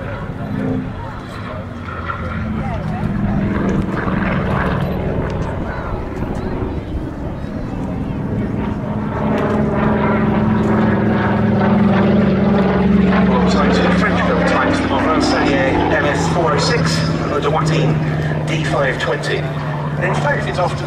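A Curtiss Hawk 75A-1 fighter flying at the Duxford Battle of Britain airshow, its piston engine droning steadily with a rising and falling pitch as it passes, loud and continuous, with commentary spoken over it throughout.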